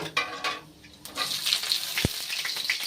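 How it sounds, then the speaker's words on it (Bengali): Panch phoron, two dried chillies, onion, slit green chilli and garlic hitting hot oil, giving a steady close sizzle with a few clinks of a spoon or pan and a brief low thump. "তেলটা গরম হয়ে গেছে, প্রথমে ফোড়নের মধ্যে দিয়ে দেবো 5 ফোড়ন, 2টো শুকনো লঙ্কা, পেঁয়াজ, চেরা কাঁচা লঙ্কা আর রসুন।"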